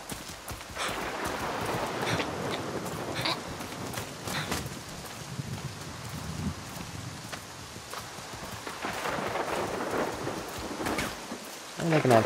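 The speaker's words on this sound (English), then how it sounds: "Great, now there's more rain and thunder." Rain patters steadily with low rolls of thunder in the video game Far Cry 6, along with scattered clopping footsteps and some muffled speech.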